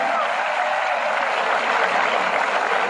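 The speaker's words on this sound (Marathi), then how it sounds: "सगळ्यात जोरदार टाळ्या तुम्ही स्वतःसाठी वाजवा" A hall audience at a career guidance camp lecture claps loudly and steadily, a sustained wash of many hands that holds at an even level throughout.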